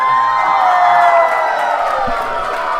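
A wrestling arena crowd roars and cheers after an elimination in a four-way match, a loud sustained wall of cheering and whooping with scattered shouts.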